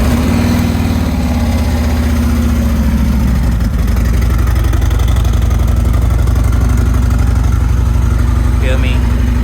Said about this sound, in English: Let's get a cold start on this bad boy right here.